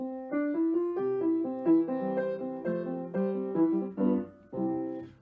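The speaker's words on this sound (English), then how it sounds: "A piano, you know, sounds like this." A piano plays a short melodic passage alone, clear notes stepping through a tune with sustained chords underneath, close and moderately loud.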